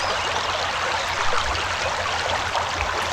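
A steady stream of water runs and trickles continuously as a flask is filled in a video game, an even wash of splashing with no pauses.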